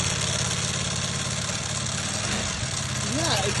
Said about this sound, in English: It sounds like the bike is broken.